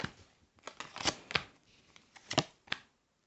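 Tarot cards are shuffled and flicked in quiet, irregular bursts of crisp riffling, close and soft, with short pauses between.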